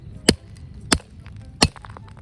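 A hard, old brown coconut struck three times with a blade or tool, each blow a sharp loud crack spaced well apart, with light rustling in between.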